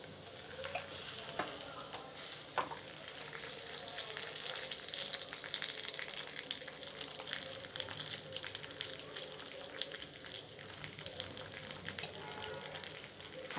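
Homemade Alexandrian sausage fries in a pan over a small alcohol burner, giving a continuous moderate sizzle with occasional stirring clicks, close and without talk.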